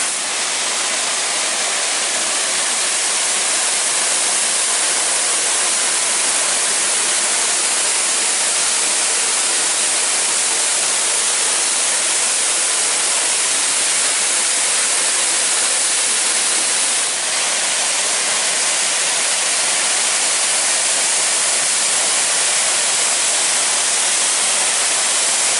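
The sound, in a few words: Tunnel Falls waterfall on Eagle Creek Trail, Oregon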